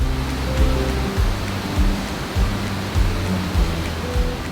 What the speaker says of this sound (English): Four miles downstream is the Lower Falls. It has a series of 5 smaller falls cascading around the island